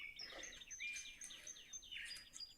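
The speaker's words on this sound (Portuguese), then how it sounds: "Tem passarinho já." Several small birds chirp and tweet outdoors in quick, overlapping bursts, faint and somewhat distant, continuing steadily with no talk.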